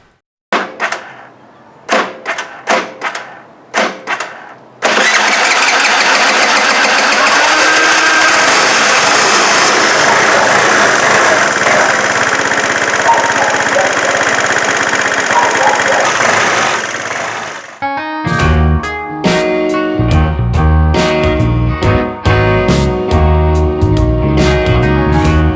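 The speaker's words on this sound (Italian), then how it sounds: "Ora provo ad avviare lo scooter per farvelo vedere." A scooter with a failing cylinder head gasket is started: a few sharp clicks, then a loud, rough engine roar running steadily for about twelve seconds before cutting out, followed by other clattering sounds.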